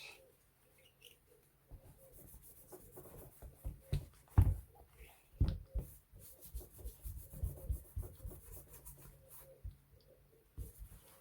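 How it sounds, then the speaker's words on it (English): Cloth rubbing excess oil off a CZ Scorpion Evo 3 pistol, with soft scuffing strokes and a few sharper knocks of the gun being handled up close, fairly quiet with no talking. "we can just wipe off the excess oil on it"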